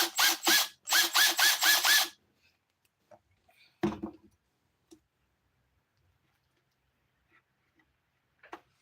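A power drill whirs in several quick bursts next to an engine's spark plug over a couple of seconds, then stops, leaving near silence broken by a few scattered clicks and taps.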